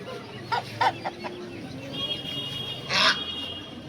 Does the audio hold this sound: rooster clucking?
yes